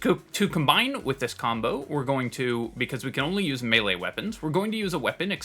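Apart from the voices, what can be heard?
No everyday noises stand out.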